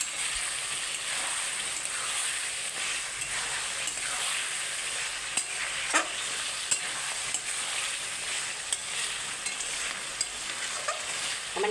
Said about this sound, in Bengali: মাঝে মাঝে মাংসটাকে নেড়ে দিতে হবে,